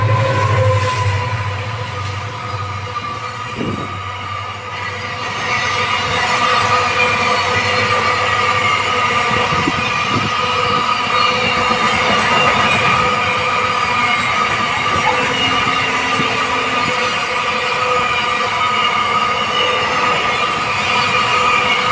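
A container freight train headed to Mundra port rolls past close by with a steady rumble and rattling wagons, wheels clacking and occasionally squealing, with no voices throughout.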